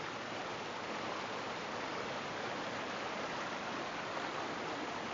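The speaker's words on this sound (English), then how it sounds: "No better sound in the world than running water." Steady rushing water flows continuously, a soft, even hiss and burble of a stream with no other sounds.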